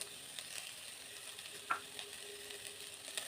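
Ginger-garlic masala with chopped coriander fries in a pan for a chickpea usli, a soft steady sizzle close by with a few faint stirring clicks and no talking.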